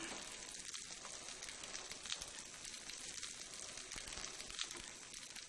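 Little cakes frying on a hot stove give a steady, close sizzle with a faint crackle, heard alone and with no talk.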